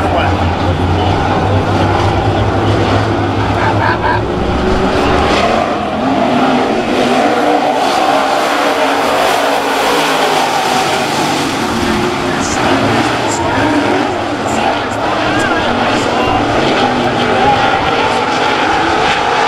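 Late model race cars roaring around 81 Speedway during a heat race, a dense, continuous loud engine drone with shifting pitch as cars pass, a crowd or announcer voice faintly mixed in.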